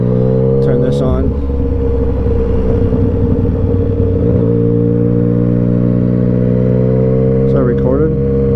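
Motorcycle engine revving hard and accelerating for a wheelie, a loud continuous drone with rising pitch sweeps at the start and near the end, heard close.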